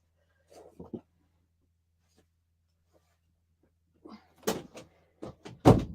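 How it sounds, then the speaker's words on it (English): An interior door is pushed shut at close range, a soft creak and brush before a couple of firm knocking thuds as it closes and latches, in an otherwise quiet room. "So before we had a big interruption, I thought I'd just shut the door."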